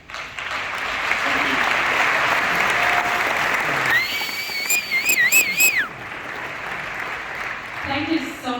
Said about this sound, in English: can we have another big applause for all the six startups